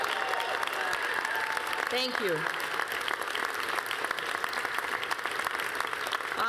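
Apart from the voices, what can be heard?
audience applause at a concession speech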